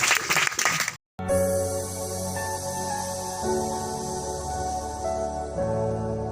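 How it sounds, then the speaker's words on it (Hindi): A short, dense burst of congregation applause for a bishop at a church's 20th anniversary service in Khusrupur, Patna, lasting about a second, then a brief silence and sustained tonal music. "आइए ताली बजाकर बिशप साहब को बुलाएंगे"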